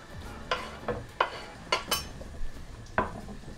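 Leek sizzling in fat in a pan while being stirred, with a soft frying hiss beneath a series of sharp clinks and scrapes of a utensil against the pan, about seven distinct knocks at an irregular pace.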